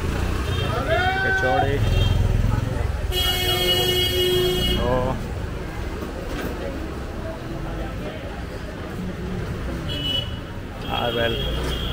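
Busy street traffic in a narrow lane of Ballimaran, Old Delhi, with repeated car and motorbike horn toots and a steady hum of engines. Someone talks nearby throughout.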